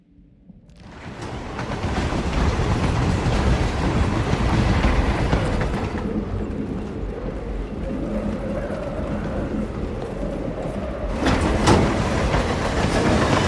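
A train in the Carpathian Mountains level of the video game Hitman rumbles past, a loud, dense roar that swells in within the first second and holds steady with rattling clatter throughout.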